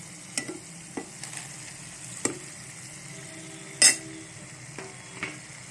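Okra sizzles in oil with a poppy seed spice paste while a spoon scrapes and stirs against the pan, steady frying hiss broken by several sharp clinks and one louder scrape.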